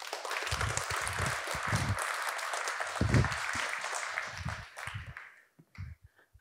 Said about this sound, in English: Warm applause for Femke Herregraven.